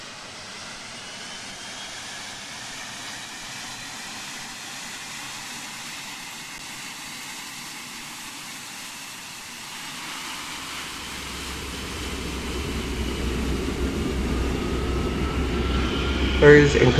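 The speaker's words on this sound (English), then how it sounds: "Start engine 2." A Boeing 757 jet engine starts up in the Project Flight game, on an Easyjet airliner. A steady background hum comes first, then a deep rumble swells and grows louder over the last several seconds.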